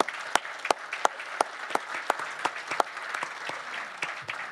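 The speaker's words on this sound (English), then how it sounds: "A round of applause for all of our Hall of Fame class." Applause at a college football Hall of Fame news conference honoring the inductee class, moderate crowd clapping with sharp, regular camera-shutter-like clicks cutting through at close range.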